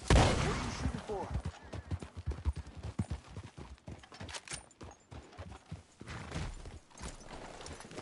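Gunshots in the western game Red Dead Redemption 2, scattered sharp shots mixed with horse hooves clopping and other action noise, with people talking over it.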